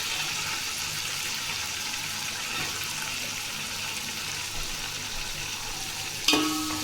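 Onions frying in a pan for coconut rice with mint chutney, a steady even sizzle running throughout, with a brief sharper clatter near the end.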